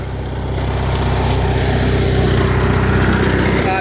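A John Deere 316 lawn tractor engine runs steadily nearby, a loud, even, throbbing drone that holds constant throughout.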